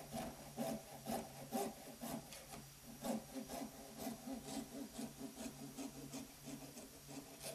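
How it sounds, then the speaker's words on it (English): A hand saw cuts through a part held in a vise while a DIY camera gimbal is being built, giving steady back-and-forth rasping strokes at an even rhythm, close and moderately loud. "The saw was not exactly cutting straight."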